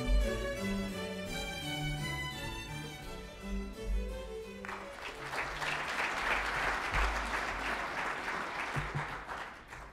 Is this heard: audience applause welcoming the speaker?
yes